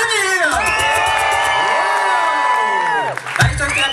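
At a kids dance battle event, a crowd of young audience members yells, whoops and cheers loudly in sustained, overlapping shouts, with scattered clapping beneath and a brief dip before another burst of shouting.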